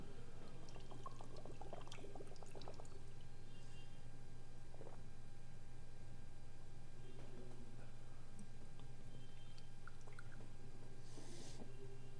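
Drinking water poured during a short study break, a faint, quiet trickle with small drips and clicks over a steady low hum, no voices.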